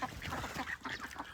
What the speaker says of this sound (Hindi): ये हमारी बतखों की इंजॉयमेंट माशाल्लाह